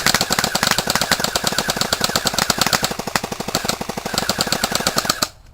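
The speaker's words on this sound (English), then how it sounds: "get in a little closer and blast it" Airsoft guns rattle off a long, rapid stream of shots at food, the closely spaced cracks running steadily for about five seconds before cutting off abruptly.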